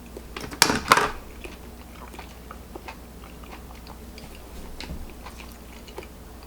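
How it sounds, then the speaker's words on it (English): Grass-fed beef from Kualoa Ranch in Hawaii is bitten into with a loud close crunch at the start, followed by soft, steady chewing under a low background hum, with no speech. "Now that I really got to taste the meat"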